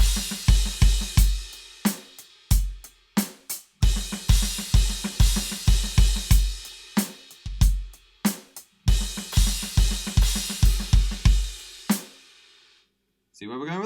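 A drum kit plays a steady groove with punchy kick and crashing cymbals, then breaks into a big drum fill, loud and close, ending with a decaying cymbal wash into near silence.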